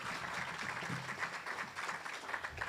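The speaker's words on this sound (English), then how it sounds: "That deserves an applause." Audience applause at a groundbreaking ceremony for the Packery Channel landmark on North Padre Island, a steady, moderately distant wash of clapping that holds evenly for a few seconds.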